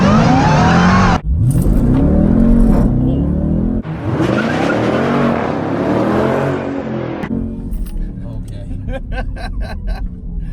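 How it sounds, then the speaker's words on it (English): A 2018 Jeep Trackhawk launching hard, engine roaring loud and close as the tires squeal and skid while the wheels break loose, the roar dropping briefly between bursts before fading into rattling road noise. "The wheels break loose."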